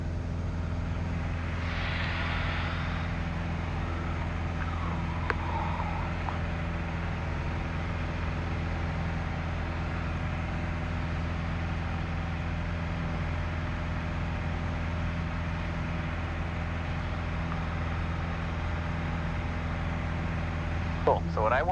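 Light training aircraft in flight around the pattern, its piston engine a steady, continuous drone with a few faint cockpit noises and brief voice bits.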